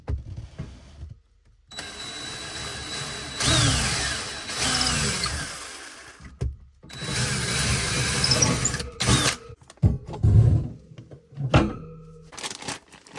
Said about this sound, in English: You can just start drilling.